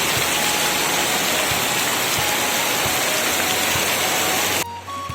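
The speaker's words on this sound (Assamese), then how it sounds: "বহুত ডাঙৰ বৰষুণ পৰিছে" Heavy rain pouring down outdoors on an evening after a hot day, a dense, loud, continuous roar of falling water that cuts off abruptly near the end.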